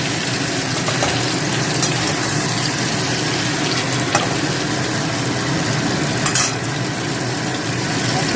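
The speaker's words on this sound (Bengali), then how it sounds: "পরিমাণ মতো একটু জল দিলাম" Water hits a hot pan of pointed gourd with poppy seed paste and turmeric, giving a loud, continuous hiss and sizzle close up that holds steady throughout.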